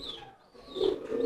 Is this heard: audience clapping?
no